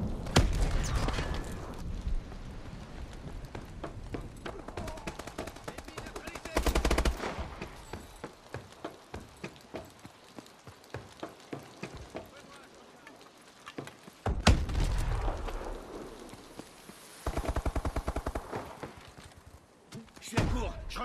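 Gunfire in the video game Advanced Warfare in hardcore mode, with rapid automatic bursts and single shots crackling throughout, some loud and near, others lighter, with game voice callouts heard between shots.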